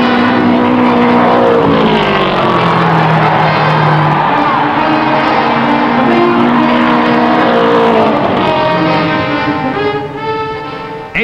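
Race cars from the 1960 Indianapolis 500 roar past in a loud, continuous rush of engine noise, with rising and falling pitch as they pass and a crowd cheering and shouting underneath.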